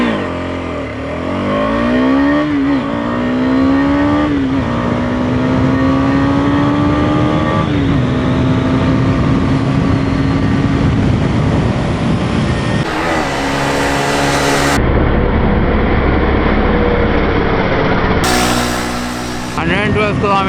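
A KTM 250 Adventure single-cylinder motorcycle rides through city streets, its engine loud and close as revs climb and fall through gear changes, with a rider talking over it and wind noise.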